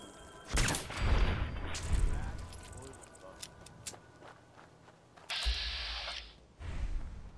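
Deliverer pistol firing in Fallout 4, several loud bursts of shots spread across the clip with quieter mechanical clicks and rattles between them.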